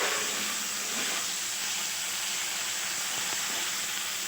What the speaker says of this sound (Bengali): তেলে ছেড়ে দিচ্ছি, ভালোভাবে ভেজে নেব।